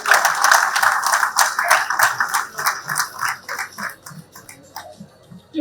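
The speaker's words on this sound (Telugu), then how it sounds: "let's give him a big round of applause" Audience applause at an Ugadi awards ceremony, a steady patter of hand claps that is loud at first and gradually thins and fades, with no talking over it.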